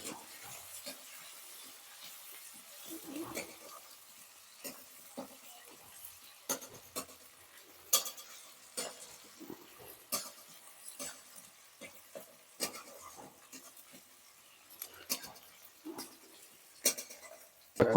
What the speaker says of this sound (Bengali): তেল গরম হয়েছে, পেঁয়াজ দেওয়া হয়ে গেছে, দেখতেছো।